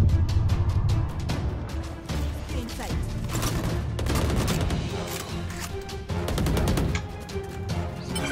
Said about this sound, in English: If it moves, shoot it.